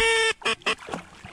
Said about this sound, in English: one flock of teal in front of us